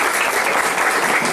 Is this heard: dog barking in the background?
no